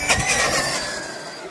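Carson Drakuro 1:8 RC car accelerating hard into a wheelie, a sudden loud surge of high electric motor whine that peaks right away and then fades off over a second and a half, close by.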